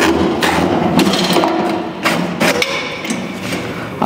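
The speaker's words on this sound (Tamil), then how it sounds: "இந்த எலனி வெட்டர் மிஷின் ஒரு டெமோ காட்டிடலாங்க?" A tender coconut cutter machine being demonstrated, giving a loud, continuous mechanical whir and grinding with a few sharp knocks and thuds over about four seconds, close up, with no clear talking.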